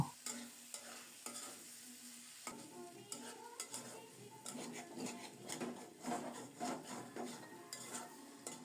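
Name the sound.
stirring fish curry with chopped green chillies in pan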